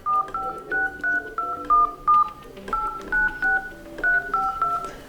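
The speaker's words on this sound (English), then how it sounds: "here activate dial pad sounds" A quick series of short beeping dial pad tones on an Asus ROG Phone 2 at varying pitches, pressed in an uneven rhythm, clear and close.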